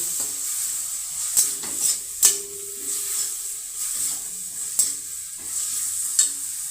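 Spices, turmeric, chili, cumin and coriander with meat masala, stirred and fried in a pan, with a steady oily sizzle, scraping spoon strokes and occasional sharp clinks against the metal.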